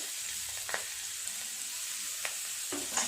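Chopped onion frying in oil with black cumin seeds and green chillies, a steady soft sizzle with a few sharp crackles and pops, close by and alone.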